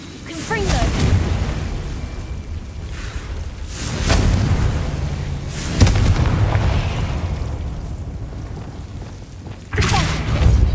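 Blasting-curse explosions go off in Hogwarts Legacy, several loud booming bursts spaced a few seconds apart, each with a rumbling tail, while a player voice calls out between them.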